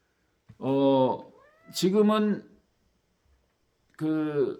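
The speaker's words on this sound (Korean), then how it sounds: "우리 고양이가." A cat meows three times, drawn-out and close, with a brief high squeak between the first two calls and quiet gaps around them.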